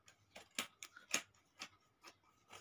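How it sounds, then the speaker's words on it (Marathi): Scissors cut through old cloth for a baby quilt, making a series of quiet, crisp snips at an uneven pace, close by and with no talking. "जो एक्स्ट्रा भाग असेल तो पूर्णपणे कापून घ्यायचा."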